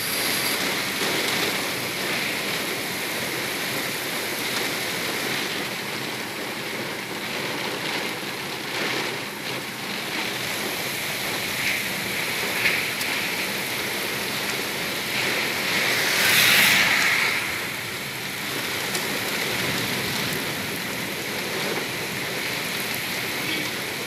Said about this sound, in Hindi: आंधी के बाद बारिश हो लागल जे काफी तेज बारिश भेल